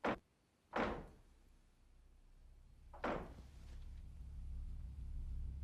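Sharp knocks on a wooden closet door in a horror film scene, three separate raps spaced apart with a low room rumble between them, close and loud against a quiet background.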